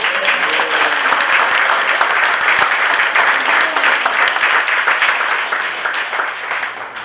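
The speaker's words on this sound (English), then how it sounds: "everyone needs to just give her a little round of applause" A room full of people gives a sustained round of applause at a community center opening, dense steady clapping lasting throughout with a faint voice or two beneath it.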